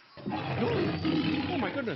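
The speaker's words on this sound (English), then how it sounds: "What animal is that? A tiger. A lion." A lion or tiger roars in a deep, sustained growl lasting almost two seconds, loud and close, as part of an imagined jungle scene, with a brief spoken exclamation over it.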